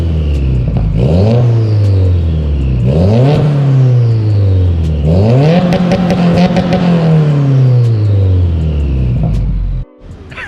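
A loud catless car exhaust on a 2018 Subaru WRX with a J-pipe revs hard three times in a row, each rise climbing to a raw, raspy roar before dropping back, then cutting off abruptly at the end.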